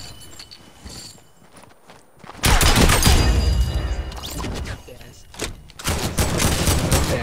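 Loud bursts of rapid gunfire fill a Fortnite match in Wick Mode, arriving in dense, close volleys separated by quieter stretches.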